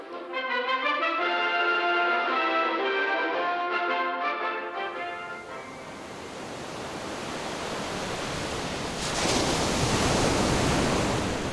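Indian Ocean waves roll in as a steady, full wash of surf noise that swells louder toward the end, following a brief stretch of sustained musical tones at the start.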